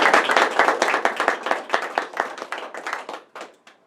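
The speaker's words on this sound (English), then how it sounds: "and another round of applause." Audience applause at a presentation ceremony: dense, loud clapping from many hands that fills the room, then thins into a few scattered claps near the end.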